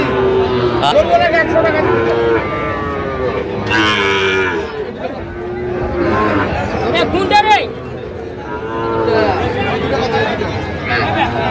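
Cattle moo repeatedly amid a noisy crowd of people talking at a livestock market, with overlapping calls from several animals, including Sahiwal bulls and heifers, close by.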